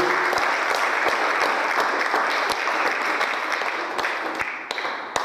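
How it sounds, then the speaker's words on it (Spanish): A church congregation claps at a Spanish-language service, a continuous, loud patter of many hands with a few sharper individual claps standing out, tapering slightly toward the end. "Dale un fuerte aplauso a Dios."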